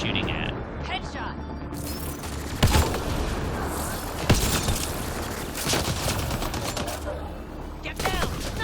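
Sharp gunshots and impacts from the Mass Effect Andromeda video game, a few distinct loud bangs spread across the clip over game ambience, with voices heard briefly.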